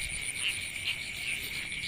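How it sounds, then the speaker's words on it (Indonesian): Frog croaking in a rice field at night, a faint steady pulsing chorus with insect-like trills and no voices. "kodok"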